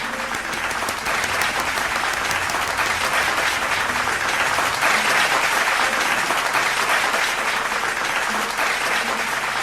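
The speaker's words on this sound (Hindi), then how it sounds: "जोरदार तालियों से स्वागत करिए वरिष्ठ साहित्यकार महेंद्र पाल सिंह जी का" A crowd at a Hindi poetry gathering applauds loudly and continuously through the whole stretch. The dense, even clapping has only faint voices beneath it.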